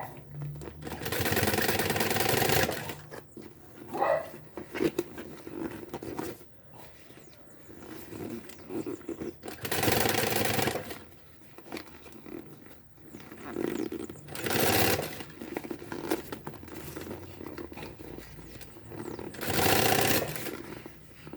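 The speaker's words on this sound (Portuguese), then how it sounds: "Vou sentindo o meu caminho do vivo e vou costurando." Sewing machine stitching a Paris-style handbag, running in repeated loud bursts of a few seconds each, separated by quieter pauses as the fabric is repositioned.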